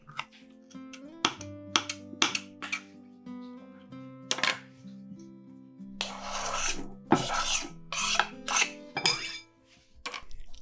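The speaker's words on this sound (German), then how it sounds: "Die Deckel der Paprikaschoten schneide ich in kleine Stücke" A knife cuts bell pepper tops into small pieces, giving a series of rasping, scraping strokes that cluster toward the end, heard over steady background music.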